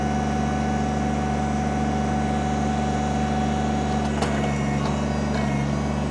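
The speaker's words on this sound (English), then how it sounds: "I can reach up here, grab my throttle, put my outriggers down." A Kubota BX23S diesel sub-compact tractor loader backhoe runs at a steady, close engine drone, with a brief mechanical clunk and a few rattles partway through as the outriggers lower.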